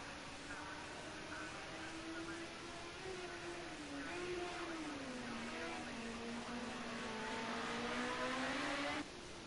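A Ford Sierra Cosworth race car in a racing video game at Bathurst, a steady engine drone holding at high revs with slowly wavering pitch as it runs on track, heard alone for several seconds.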